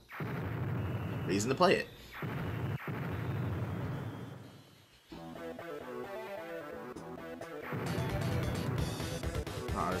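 Booming explosions from the video game Mother 3 rumble in loud, dense bursts, pause briefly, then return alongside game music, while a person talks over them.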